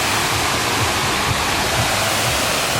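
A waterfall in Santiago, Chile roars in a loud, continuous rush of falling water, close and steady throughout with no voices.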